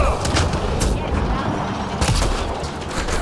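Gunfire in the video game Mass Effect: Andromeda, several loud sharp shots and bursts with rumbling booms, close and heavy, spaced across a few seconds over game ambience.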